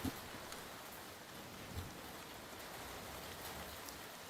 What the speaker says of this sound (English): Draza working his way up through the rain and wind